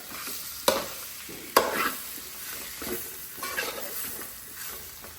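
Coconut milk poured into a simmering bitter gourd and raw mango curry, with close sizzling and several sharp stirring scrapes of a spoon against the pan, no voices.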